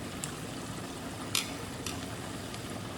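Korean fried chicken frying until crispy, a steady low sizzle and bubble of hot oil with a few brief sharp pops and clicks over the top.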